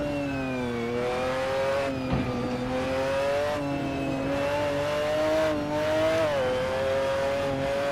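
A race car's engine drones and revs close up while it laps a track in Assetto Corsa during a national league race, the pitch rising and dipping through gear changes, with no voices.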